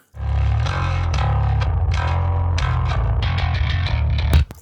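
A heavily distorted, effected bass guitar plays a steady riff with strong low-end notes and gritty overtones, loud and continuous with no talking.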